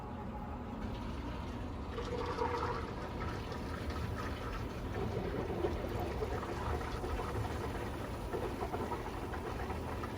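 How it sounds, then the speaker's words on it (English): A small pump pushes water through a tankless water heater being flushed, a steady gurgling churn of liquid with a low mechanical hum as air bubbles work through the lines. "now we're getting these air bubbles worked out. You can hear it circulating through this now."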